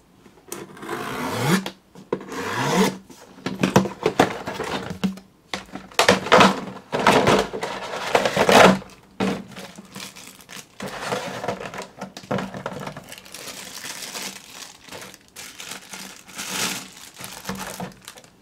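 Plastic packaging from an Astro Boy robot model-kit magazine being ripped open, with bursts of crinkling, tearing and rubbing interrupted by occasional knocks, close and fairly loud across the whole stretch.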